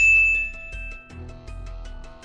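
A bright notification bell ding rings out once, clear and close, its metallic tone lingering and slowly fading over a couple of seconds.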